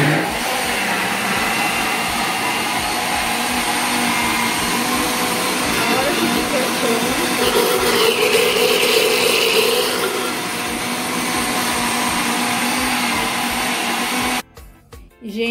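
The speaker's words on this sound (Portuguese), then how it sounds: "já acabei de desligar aqui o liquidificador" A loud, steady whirring blender motor mixing wheat pudding batter, running continuously, a droning mechanical hum that cuts off near the end.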